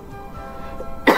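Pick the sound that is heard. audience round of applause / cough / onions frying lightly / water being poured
cough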